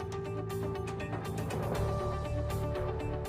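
Clicking ratchet mechanism, most likely a tool loosening the fixing clamps on a Blanco Metra 5 S kitchen sink, giving a steady run of fast mechanical ticks against a constant background hum, with no talk.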